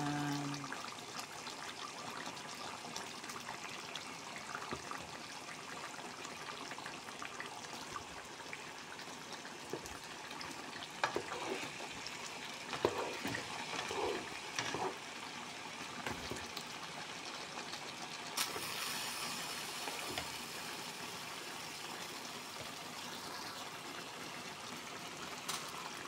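Steady bubbling and gurgling of water at a rolling boil in a pot, close by, with a continuous hiss and no voices.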